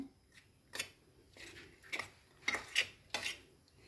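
Paneer momo stuffing being mixed in a bowl, with a spoon scraping and clinking against the sides in several short, uneven bursts that grow busier toward the end, close and fairly quiet with no talking.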